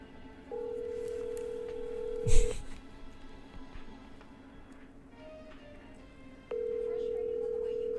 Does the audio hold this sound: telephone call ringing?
yes